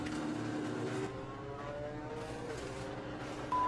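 Ford GT race car at Le Mans revving to higher RPM, a loud, steady close engine drone whose tone climbs and holds throughout, with a brief sharper burst near the end.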